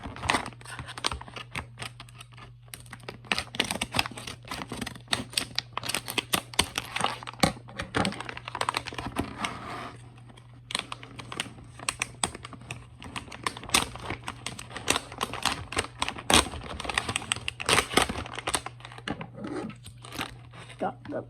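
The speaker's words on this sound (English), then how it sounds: "I'm just gonna cut with scissors." Scissors snipping and tearing through plastic toy packaging while opening Despicable Me 4 toys, a dense run of sharp crackles and crinkles over a steady low hum, with a person talking throughout.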